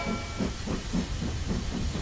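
Cartoon steam train hissing steadily under a rhythmic, pulsing chug, a continuous airy wash with regular low beats throughout, no voices.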